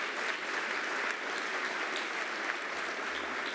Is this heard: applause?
yes